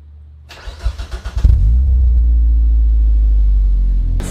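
A 1998-2003 Mazda Protege engine cranks with a rapid starter whir for about a second, catches, then settles into a steady, loud, close idle rumble, with no talking.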